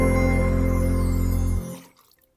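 About 300 ml of sugar syrup for bees pours in a steady, resonant stream into a container, then stops abruptly at the end into near silence.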